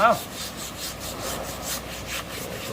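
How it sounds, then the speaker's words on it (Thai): A large adult bull elephant, tusker over 40 years old, has its long tusks scrubbed during a bath, giving steady rough rubbing and scraping strokes at close range, fairly quiet and continuous. "ก่อนก็จะขัดงาเขาด้วยนะครับ"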